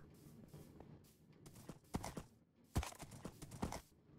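Horse hooves clip-clop in Minecraft: a few sharp, fairly close hoof knocks in an uneven walking rhythm over low game background noise.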